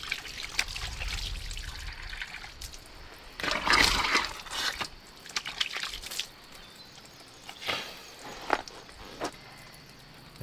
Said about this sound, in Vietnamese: Dòng nước này thật là tươi mát.